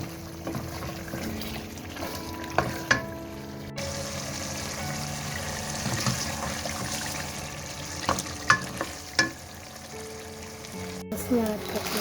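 Onion, garlic, ginger, tomato and fenugreek fry in a pan with a steady sizzle. A spoon gives a few sharp scrapes and clinks, and someone talks over the cooking now and then.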